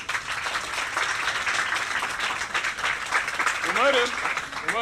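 A studio audience claps in a dense, sustained round of applause, loud and even throughout, while someone speaks Turkish over it and a brief whistle-like tone rises near the end.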